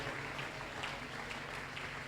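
Church congregation applauding together during a French-language sermon, a steady dense wash of clapping that stays even and moderately loud throughout without pause.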